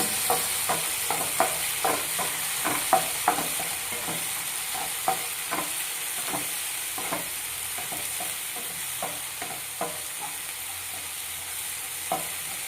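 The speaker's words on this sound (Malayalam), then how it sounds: "നമുക്ക് തക്കാളി ഇട്ട് കൊടുക്കാം കേട്ടോ. നമുക്ക് മിക്സ് ചെയ്തെടുക്കാം" Tomato being stirred into fried onions in a pan, a steady sizzle under a continuous run of quick spoon scrapes and taps against the pan, close and fairly soft.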